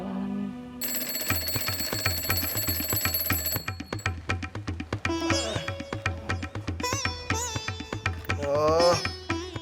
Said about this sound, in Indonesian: Oh, weker nih.